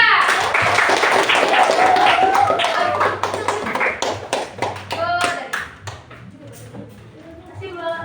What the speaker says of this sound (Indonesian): Tepuk tangan dulu buat Elsa.